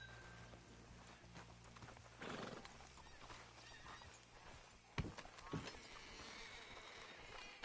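Horses in Red Dead Redemption II clip-clop and whinny at a hitching spot, with hoof thuds and snorts over a steady ambient bed, a sharp hoof strike near the end.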